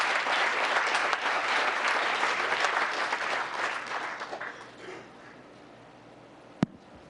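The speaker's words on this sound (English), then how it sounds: "Nice round of applause." A town council meeting audience gives a round of applause, dense steady clapping from a roomful of people that thins and fades out, ending with a single sharp knock.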